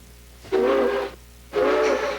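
Two long steam train whistle blasts sound one after the other, each lasting about half a second, bright and breathy with a hissing edge.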